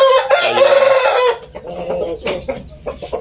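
A Japanese Shamo rooster and hen give a loud, close crow, then a run of short, choppy clucks.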